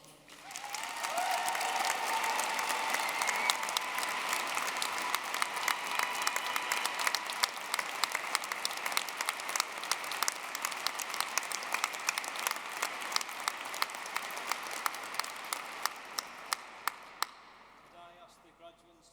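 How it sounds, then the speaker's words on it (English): Graduation ceremony audience applauding at length, a dense steady wash of many hands clapping that gradually thins out and ends with a few scattered claps. "So give yourselves a round of applause."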